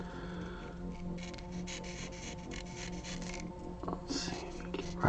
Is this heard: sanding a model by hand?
yes